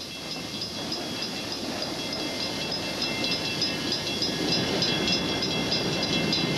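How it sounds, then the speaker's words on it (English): A train passes nearby with a steady rumbling roar and hiss, rails clicking faintly beneath, loudness building gradually as it draws closer. "Oh, that's just a train."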